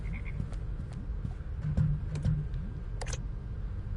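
Frog croaks from a frog aquarium in the video game Her Majesty's SPIFFING, a few low throaty calls around the middle over a murky background hum with scattered clicks.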